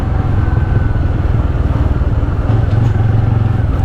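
A motorcycle rides along a road at night in the Konkan countryside, its engine putting out a steady, close, loud low rumble with some rattling and no talk.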